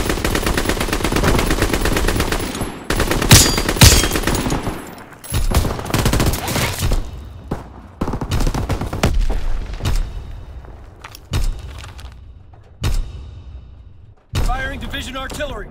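Artillery barrage firing in the Call of Duty video game: a burst of heavy, booming gunfire followed by several separate blasts, loud and close.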